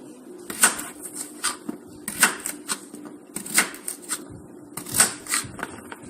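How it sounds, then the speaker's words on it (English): A knife chops potatoes into chunks on a board, giving four crisp, evenly spaced cuts with sharp clacks and softer scraping in between, close and moderately quiet. "I go ahead and just cut them in chunks like this."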